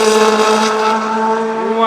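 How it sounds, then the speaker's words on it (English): A 1960s Lotus race car at an Oulton Park testing day blasts past loud and close, its engine a sustained, steady high-pitched scream that dominates throughout. "Have they just taken the silencer off that or something? That's so loud, that Lotus. Sounds fantastic."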